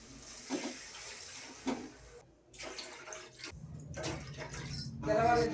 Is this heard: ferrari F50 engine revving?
no